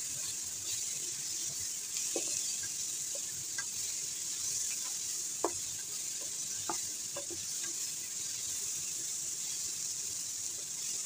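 Pork sizzles steadily in a hot pan, a continuous hiss broken by scattered pops and crackles, with no talking.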